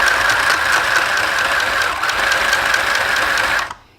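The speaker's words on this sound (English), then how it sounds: "now for this machine, you're going to sew off of your fabric about 9 inches" A mini sewing machine stitches off the edge of the fabric, a steady rapid mechanical whirr running close and loud for several seconds before stopping abruptly.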